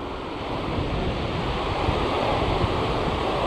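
Ocean waves break and wash near a fishing boat off Pulau Weh, Sabang, a dense, continuous surf roar mixed with wind buffeting the microphone, loud and close throughout.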